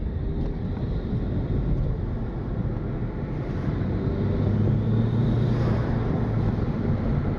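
Turbocharged Honda Civic R18 engine pulling under acceleration in second gear, a steady low rumble heard from inside the cabin with road and wind noise, swelling slightly toward the end.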